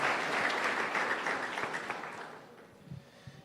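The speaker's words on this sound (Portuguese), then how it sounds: "Vamos aplaudir esses pastores também, tão preciosos, tão maravilhosos, né?" Church congregation applauding their pastors during an anniversary service, a burst of many hands clapping that starts full and gradually thins and fades out, leaving a few scattered claps at the end.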